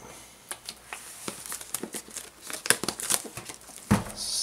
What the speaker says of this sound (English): Slide this plastic off.